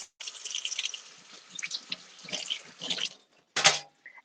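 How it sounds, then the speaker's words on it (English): Tap water runs steadily from a faucet as hands are washed after handling raw turkey wings, splashing close by with a few louder bursts, then a short sharp gush near the end. "And I wash my hands because poultry, salmonella, think about it."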